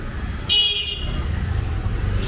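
A single short car horn toot sounds on a street in Kolkata, India, lasting about half a second, loud and close over a steady low traffic rumble.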